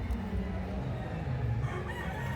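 Several gamefowl roosters crow over a busy game farm din, their calls overlapping at a moderate distance, with no clear pauses in the background noise.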